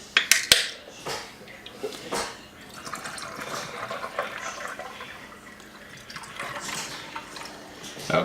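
Liquid being poured by hand into a glass, splashing and trickling in uneven bursts with a few sharp clinks at the start, close and moderately loud.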